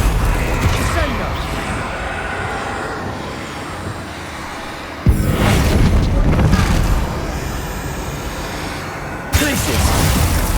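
The Descendo spell in the video game Hogwarts Legacy lands as two heavy, booming slams several seconds apart, each followed by a rumbling tail over steady game ambience.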